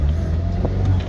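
A stock turbocharged car accelerating as the boost comes in, its engine a steady close mid-range drone with no talk over it.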